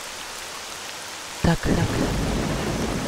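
Steady, close rain pours in a visual novel video game, with a sudden crack of thunder midway and a voice speaking briefly.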